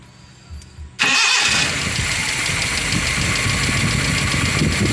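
A Nissan Vannette 1.5 with a carburetor engine cranks and fires after a quiet moment, then settles straight into a loud, steady, rough idle heard close up and alone.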